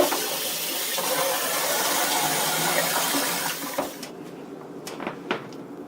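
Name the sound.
rinsing noodles under cold running tap water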